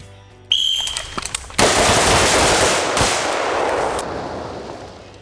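A sharp burst of AR-15 rifle fire at a training range, shots in rapid double-tap pairs blending into loud outdoor reports with echoing decay, preceded by a brief electronic beep tone.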